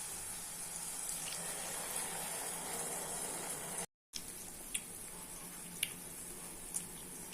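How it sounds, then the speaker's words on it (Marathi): Water is poured into a pan of browned onion and yogurt-marinated spices for a paneer tikka gravy, giving a steady soft splashing and trickling sound, faint and close, with a few small clinks and no talking. "पाणी घालूया."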